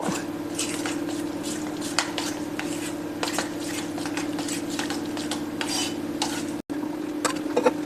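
Semolina dhokla batter being stirred with a spoonful of oil in a bowl: steady, close squelching strokes with light clinks of the spoon against the dish, repeating evenly over a low hum, with no talk.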